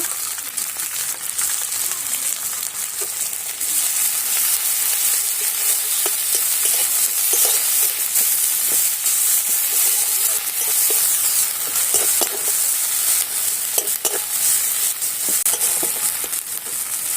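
Garlic and ginger paste fries in a pan for fritters, giving a steady, close, continuous sizzle with small crackles and no voices.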